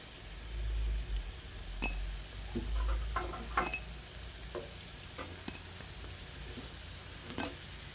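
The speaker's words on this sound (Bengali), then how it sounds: "দেখুন পুঁই পাতার পকোড়াগুলো ভাজা হয়ে গেছে এবার আমি এগুলোকে তুলে নিচ্ছি" Malabar spinach and lentil pakoras frying in hot oil, a continuous soft sizzle broken by scattered light clinks and scrapes of a utensil, close and moderately quiet with no voices.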